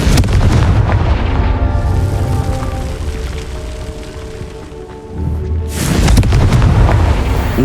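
Confringo fire spell explosion in Hogwarts Legacy, a loud rumbling blast that fades with a ringing tail before a second heavy burst erupts near the end.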